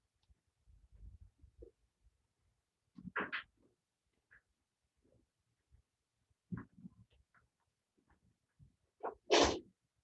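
A single short, sharp sneeze bursts out near the end of a quiet classroom moment, preceded by a few faint rustles and small sounds.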